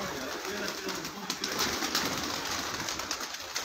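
Pigeons at a rooftop loft coo softly under steady outdoor noise and a little flapping, with a broad hiss running throughout. A voice talks faintly in the background.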